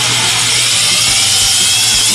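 A hand drill or hole cutter boring into a plastic 5-gallon container runs with a loud, steady broadband whir and grind, unbroken and close, with no one speaking.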